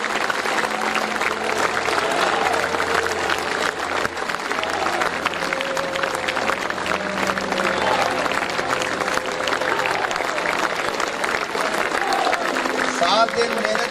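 An audience applauds at an award ceremony during an annual school function as a best-player trophy is handed over. The clapping is sustained and dense for the whole stretch, with crowd noise and voices mixed in.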